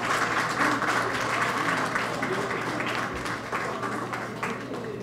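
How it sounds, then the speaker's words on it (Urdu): Audience at an Urdu poetry evening applauds to welcome a poet to the stage: loud, continuous clapping from a sizable crowd, holding steady throughout with a slight easing toward the end. "اپنی بھرپور تالیوں میں مدد کیجیے۔"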